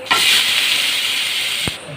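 Sliced bitter gourd hitting hot oil in a wok seasoned with a spoon of five-spice, a loud, steady sizzling hiss that holds throughout, with a brief knock near the end.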